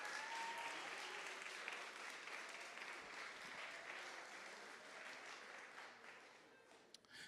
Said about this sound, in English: a round of applause for this new competition on campus